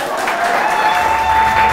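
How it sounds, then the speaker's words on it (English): A studio audience on a quiz show claps for DKB in a short, brisk burst of applause. "Clap for DKB."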